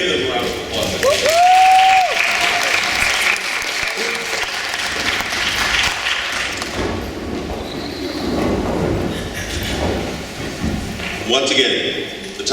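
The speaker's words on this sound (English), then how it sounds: "Let's give them a round of applause." A middle school debate audience claps for the debaters, a sustained round of applause with some background talk and murmuring.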